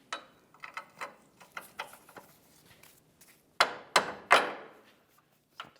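A rearward mounting bolt is tapped into a control arm bushing with a hammer on a Chevrolet, giving a scattering of light metallic taps and then three louder, sharper knocks close by in a quiet workspace.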